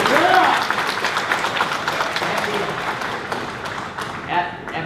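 Debate audience at the 2016 Flagler sheriff debate applauding, a steady wash of many hands clapping at close range that continues throughout, with a few voices briefly audible near the end.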